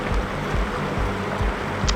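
A vehicle fords the Dirty Devil River near Hanksville in south central Utah, its wheels churning a steady, close wash of splashing water with no voices.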